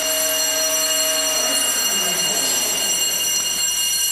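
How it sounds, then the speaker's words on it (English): A steady, continuous alarm bell rings loudly and without pause, a sustained metallic tone over machinery hum, at the Alexanderson alternator station at Grimeton, warning of no oil pressure. "You can hear an alarm bell ringing."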